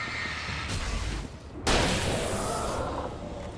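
Gunfire in the video game Alan Wake Remastered: a sharp, loud blast cuts in suddenly and rings out with a long, decaying tail, over a noisy rumbling game background.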